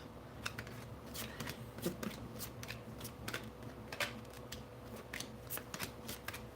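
Cards being shuffled for a reiki tarot reading, a steady run of crisp riffling snaps and soft slides close by, repeating through the whole stretch with no talking.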